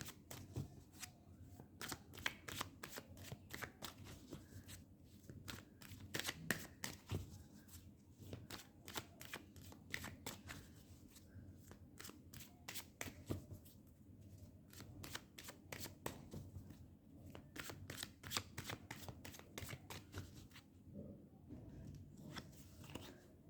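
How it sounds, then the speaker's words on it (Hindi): Tarot cards being shuffled by hand in a quiet room, with close crisp riffling bursts and flutters repeating steadily across the whole stretch. "एक मिनट, इसमें से कार्ड निकाल देती हूँ।"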